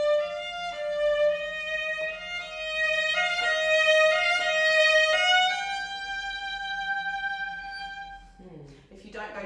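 A bowed violin line swells gradually in loudness across several sustained notes, sounding thin and shallow rather than full, then tapers off at the end.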